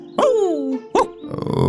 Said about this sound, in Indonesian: ia berhenti dan menggonggong tanpa henti